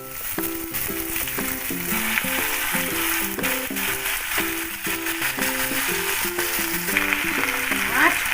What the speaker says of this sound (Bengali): এবারে আমি পুঁই পাতাগুলো দিয়ে দিচ্ছি।